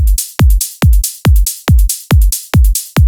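A layered hi-hat loop in a drum beat sounds as sharp, bright hits repeating in a fast, even pattern, each one cutting off cleanly over punchy low kicks, loud and alone.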